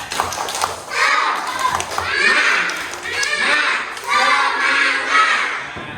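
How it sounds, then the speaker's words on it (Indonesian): Classroom of schoolchildren performing tepuk semangat, the rhythmic spirit clap, loud rhythmic clapping mixed with shouted chanting voices, close and lively throughout. "Coba tepuk semangat."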